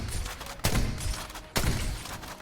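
A Baptiste grenade with the NERF weapon skin firing in Overwatch 2, two sharp bursts about a second apart, each with a short crackling tail, loud and close.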